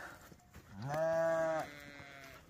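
A first-time ewe in a lambing pen lets out one loud, drawn-out, wavering bleat that is close and clear over a quiet barn background.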